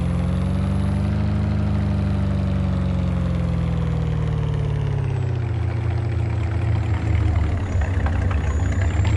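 A truck engine in Farming Simulator 25 runs steadily and loudly throughout, a deep idling drone with a low rumble that shifts slightly in pitch partway through.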